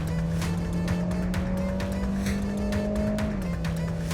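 A car on cheap Chinese sport tires lapping Fuji Speedway, its engine droning loud and steady with a rising then dropping pitch, tire and wind roar continuous throughout.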